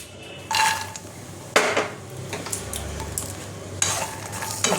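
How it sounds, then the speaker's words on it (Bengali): Makhana (fox nuts) lightly frying in a little refined oil in a kadai, with loud spatula scrapes and clanks against the metal over a soft sizzle, close by. "এটাতে আমি মাখানাটা একটুখানি হালকা ভেজে নেব।"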